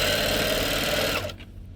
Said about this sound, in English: put it under your foot, under your machine foot, and then you can start stitching it.